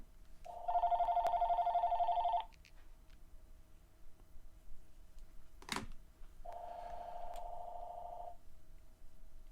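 Two bursts of an electronic telephone ring, each trilling steadily for about two seconds, separated by a pause with a brief swishing noise; moderately loud, close, with no voices.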